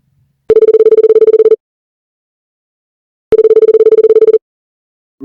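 Telephone ringback tone while a call is placed, two loud buzzing rings of about one second each separated by a silent gap, clean with no talking.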